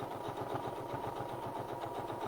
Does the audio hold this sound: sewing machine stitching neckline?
yes